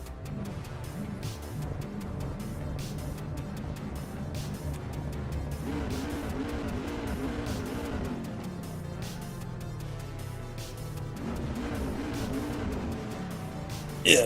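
A BMW race car in the Assetto Corsa EVO racing game roars on steadily, its engine note rising and falling through gear changes with a raw, unmuffled sound. It stays loud and close throughout, with a sharp burst at the very end.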